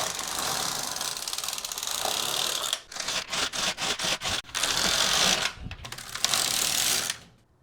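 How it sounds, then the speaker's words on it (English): Knitting machine carriage sliding across the bed while casting off stitches with waste yarn, a loud mechanical whirring rattle broken into several rapid rhythmic passes, close and without voices. "now we set our carriage back to normal, and we cast off the remaining stitches with waste yarn"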